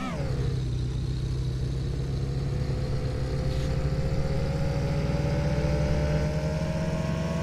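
Car engine in the game Car For Sale: a steady, droning engine hum runs through the whole stretch with a slight rising pitch at the start, loud and close, with no talk over it.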